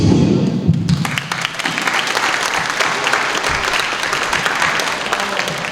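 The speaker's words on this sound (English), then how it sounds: "a round of applause for all of our boss, Mr. P" Applause from an award ceremony audience fills the room, starting with a muffled low thump and then settling into dense, steady clapping that carries on at an even level throughout.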